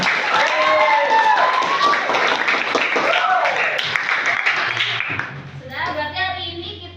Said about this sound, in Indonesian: Tepuk tangan buat kalian.